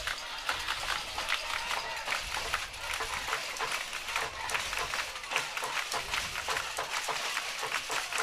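Fans at a 4A state softball championship game cheer and clap steadily from the stands, a continuous crowd roar with scattered claps, somewhat distant, with faint talk underneath.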